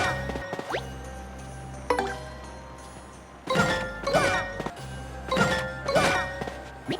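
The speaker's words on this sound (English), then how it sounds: "you'll have to jump on him until he wakes up" Mario jumps repeatedly on General White in Paper Mario: The Thousand-Year Door, a series of hollow thunks with bright jingling chimes landing roughly every second, alongside game music.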